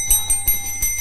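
A battery-powered dead bell ghost-detecting device rings in quick, bright metallic bursts, about five rapid jingles in a second, loud and close with no talk.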